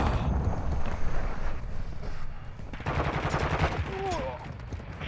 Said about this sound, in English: I'm taking fire!